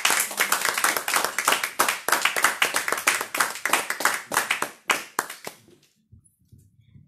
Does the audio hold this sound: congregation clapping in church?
yes